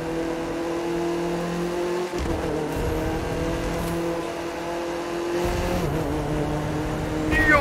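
The engine of a Formula 1 car in The Crew 2 racing game drones loud and steady at high revs, its pitch dipping briefly at each gear change and lifting again as the car accelerates. A voice talks now and then.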